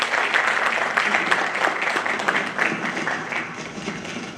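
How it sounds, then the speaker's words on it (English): Audience applause for guest of honor Captain Raghu Raman, a TEDx speaker, ex-army official and author: dense, sustained clapping from a large crowd at steady loudness, easing slightly toward the end, with no voices over it. "A huge round of applause for Mr."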